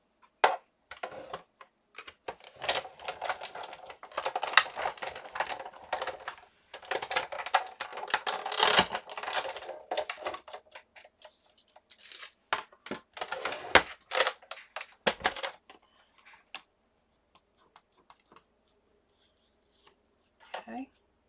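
Card stock is snipped at an angle to shape a papercraft tag, giving a run of short, crisp scissor cuts close to the microphone, interspersed with handling noise and brief pauses.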